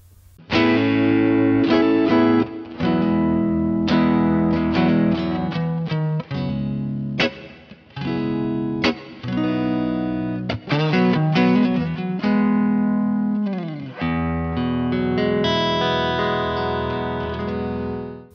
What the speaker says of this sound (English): Now, full stop, that is a great sounding reverb.